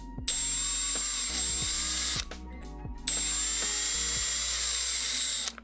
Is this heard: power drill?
yes